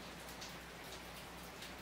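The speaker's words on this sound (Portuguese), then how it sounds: "começou a chuva justamente agora, tá trovejando e a chuva começando a comer solto lá fora" Steady rain pours outside, a continuous, even hiss of falling drops with no pauses or voices.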